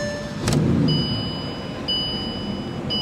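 A 2015 Bentley Continental GT V8 S starts with a brief crank and catches into a steady engine idle, alongside faint high electronic chimes.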